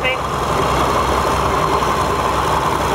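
An Oliver Model 60 tractor idling at a pulling event, a steady low engine rumble held at constant loudness while an announcer talks over it.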